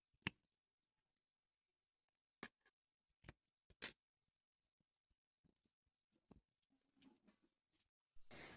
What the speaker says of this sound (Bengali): ক্যাপসিকামটাকে লম্বা লম্বা করে কেটে নেব।